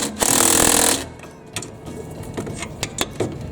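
A power tool whirs in a loud, short burst as a nut is tightened with a socket on a Cub Cadet GTX 1054 mower, followed by softer metallic clicks and taps.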